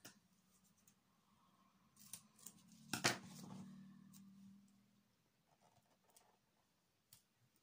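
Scissors cut paper for a handmade Christmas card, a few close, crisp snips with one louder cut in the middle, over quiet handling noises and no talking.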